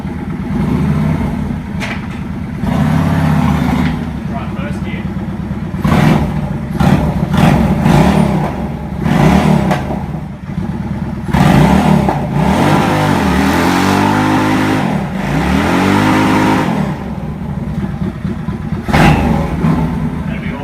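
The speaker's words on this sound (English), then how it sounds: "so we celebrated that failure by doing a burnout on Luke's motorbike." A motorbike engine revs hard during a burnout, its pitch surging and falling repeatedly in loud, close bursts for about twenty seconds.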